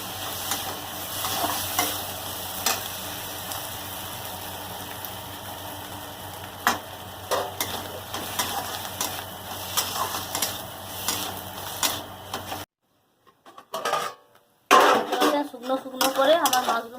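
Mushrooms with poppy seed fry in a pan with a steady, continuous sizzle while a utensil stirs and scrapes against the metal in irregular strokes. The sound breaks off briefly near the end, then resumes.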